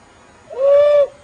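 A man imitates an owl hoot with one short, clear, sustained whistled call, close and alone in quiet surroundings.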